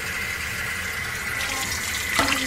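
Cold water runs steadily from a filtered tap in a hotel room, a constant close splashing hiss, with a brief clink near the end.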